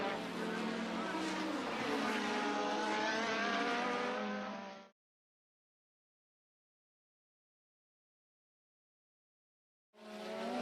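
1980s Formula 1 race cars overtaking at Spa during the Belgian Grand Prix, Nannini diving past Piquet at the tightest corner; a loud, close engine roar holds for about five seconds, cuts to silence, then returns briefly at the end.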